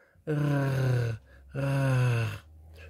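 Two long, drawn-out kitten snores, each a steady buzzing groan, with a short pause between them; a voice imitates the snoring.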